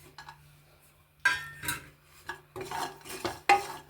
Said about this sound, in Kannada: ಇದು ಹಸಿ ಎಲ್ಲ ಹೋಗೋವರೆಗೂ ಹುರಿಬೇಕು